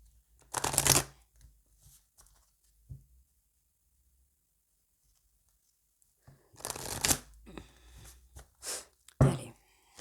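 Tarot cards being cut and handled by hand, with a papery riffle near the start and two more bursts of card noise later, separated by near silence.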